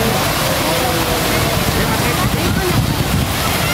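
Strong, steady wind roars across the microphone in an open city park, a dense continuous rush with slight gusty swells.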